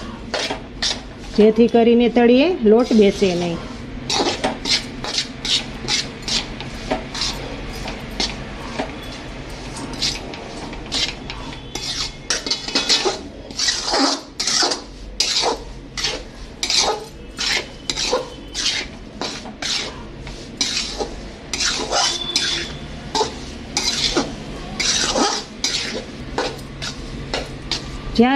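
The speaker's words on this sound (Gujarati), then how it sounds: "સતત તાવીથા વડે હલાવતા રહેવાનો લોટને," Wheat flour being stirred and roasted in a pan with a metal spatula, giving steady repeated scraping and clinking strokes close by, with someone talking over parts of it.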